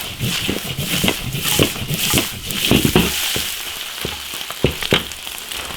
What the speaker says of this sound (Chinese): 炒香下猪皮。